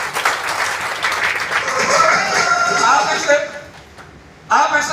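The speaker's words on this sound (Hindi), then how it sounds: "सुभाष सर के लिए ताली बजा दीजिए सर" Audience applause for Subhash at a motivational business talk, a steady dense wash of clapping that thins out near the end before a short final burst.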